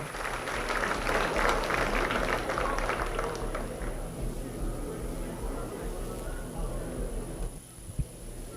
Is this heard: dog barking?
no